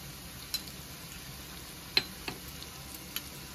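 Onion and eggplant fry quietly in a pan with salt and turmeric, a faint, even sizzle broken by a few sharp ticks and pops from the spatula or spitting oil.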